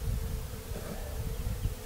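Honeybees swarm around an open hive frame, their continuous buzzing drone close and even, with faint rustles underneath and no talking.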